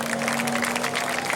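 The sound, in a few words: applause for top three race finishers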